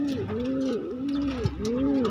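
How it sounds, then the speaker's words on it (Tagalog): Pigeons in a breeder cage give soft, repeated rolling coos, close by and gently rhythmic, with faint background noise. "ito naman yung update dito sa mga kalapati natin sa baba ng breeder cage"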